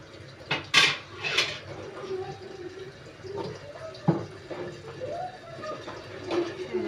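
A rinsed metal cooking pot clanks and scrapes a few times nearby, with light water sloshing and scattered clinks among quiet handling noises.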